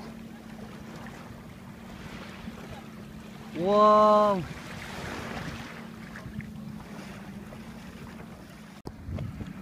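A fishing boat at sea gives a steady low engine hum under gusty wind noise, with a man's drawn-out exclamation briefly rising over it partway through.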